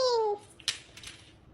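A cat gives one short, falling meow at the start while its nails are trimmed at home, followed by faint handling clicks and rustling.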